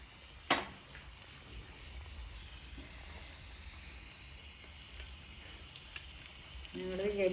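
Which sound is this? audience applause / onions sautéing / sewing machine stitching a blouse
onions sautéing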